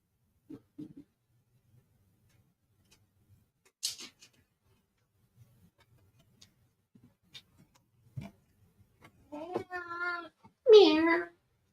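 A cat named Flick meows in a few short, harmonic cries near the end, the loudest last, after mostly quiet moments with faint clicks and brief scattered sounds.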